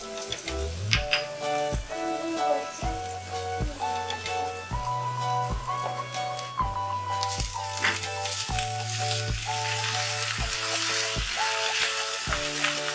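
Green amaranth leaves hitting hot oil with ginger and garlic, a strong continuous sizzle that swells as the greens go in, heard close and without any talk.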